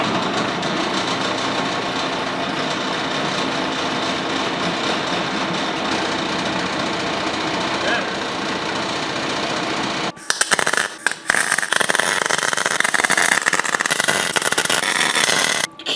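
Cheap Alibaba rock crusher running and shaking, a loud, dense mechanical rattle and hum with no talking, which cuts out briefly and then starts again even harsher.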